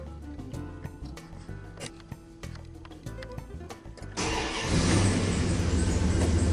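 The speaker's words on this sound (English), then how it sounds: "Now I'm gonna start the vehicle and see if it stays steady" A 2000 Dodge Ram 2500 engine cranks and fires after a stretch of quiet clicks and rattles, then settles into a loud, steady close idle roar with no talk.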